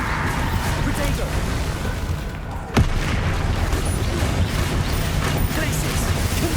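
Combat spells in Hogwarts Legacy, including Glacius, Confringo, Expelliarmus and Bombarda, crackle and rumble continuously, with one sharp burst partway through, under a voice calling out spell names.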